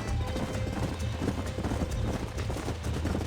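Horses gallop in the Western video game Red Dead Redemption, a dense, continuous drumming of hooves heard close and loud across the whole stretch, with a faint whinny and game ambience mixed in.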